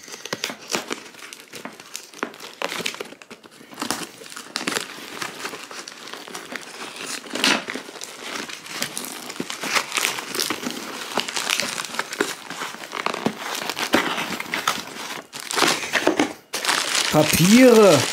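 Newspaper packing paper pulled from an opened fan mail parcel and crumpled close by, dense crinkling and rustling throughout with bursts and pauses, while a person talks over it.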